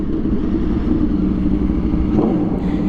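An Aprilia RSV4 with only 223 miles, fitted with a LeoVince exhaust, runs close by with a loud, deep, continuous engine rumble and little change in pitch.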